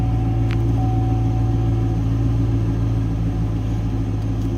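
A 2017 Chevrolet SS V8 idling after being fired up, a steady low rumble with a constant hum, even and continuous throughout, heard from inside the car with no talk.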